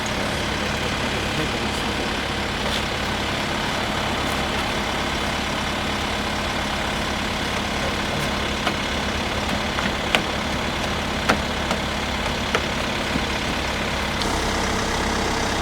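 A Kia Carnival minivan engine idles steadily with a low, even rumble, close and continuous, with a few faint clicks near the end.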